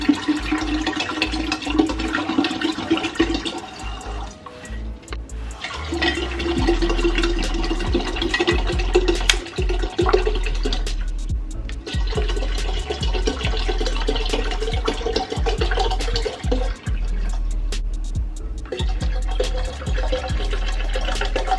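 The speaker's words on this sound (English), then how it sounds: "pour about 4 bottles of water" Water poured from about four to six bottles into a container while making infused water, a steady splashing and gurgling pour that runs nearly continuously with brief pauses between bottles, close and fairly loud, with no talking.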